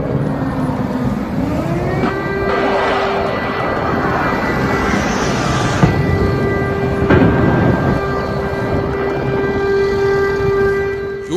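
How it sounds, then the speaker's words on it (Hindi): An air raid warning siren sounds in Ukraine during the Russian attack, a steady wailing tone rising then holding over loud rumbling background noise, continuous throughout and with no voices. "यूक्रेन पर रूस के हमले के बाद जब खतरे का ये सायरन बजा"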